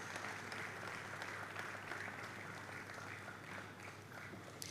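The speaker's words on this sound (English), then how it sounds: "please give a round of applause for our next speaker, Mrs. Uche Uzebo." Continuous, fairly distant audience applause fills the hall at a digital payments expo conference as the next speaker is welcomed, a steady wash of clapping with little else over it.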